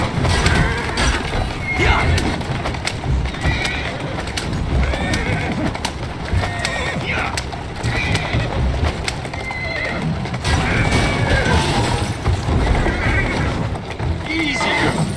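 In Assassin's Creed Syndicate, a horse neighs and whinnies repeatedly over rustling movement and hoof sounds, with a person speaking nearby.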